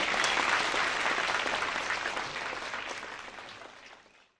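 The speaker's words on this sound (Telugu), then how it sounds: "అందరూ గట్టిగా ఒకసారి చప్పట్లు గట్టిగా." Steady applause from an audience at a celebration in Perth, Australia, broad and full at first, gradually thinning and fading out near the end.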